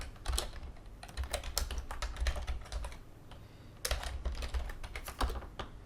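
A command is typed on a computer keyboard while building the OpenELEC Linux distribution for a Raspberry Pi, with rapid close key clicks in bursts, a short pause midway, then another flurry of keystrokes.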